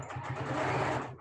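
A sewing machine stitches the seam of a fabric face mask, a close, steady mechanical whir with a fast repeating needle rhythm lasting about a second.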